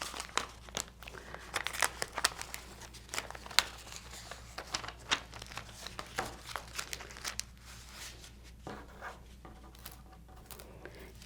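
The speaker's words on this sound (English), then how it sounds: "take one of your pieces of contact paper and go ahead and peel it" Backing being peeled off a sheet of contact paper: a close, busy run of crinkling and crackling with sharp tearing snaps, quieter toward the end.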